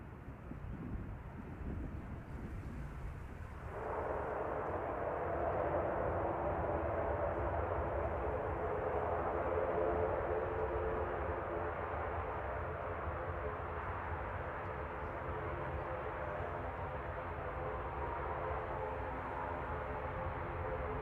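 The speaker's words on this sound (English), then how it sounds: "On approach, Aer Lingus from Dublin" An Aer Lingus airliner from Dublin on approach to Manchester Airport, a steady broadband jet roar that swells after a few seconds and holds loud and continuous under wind noise.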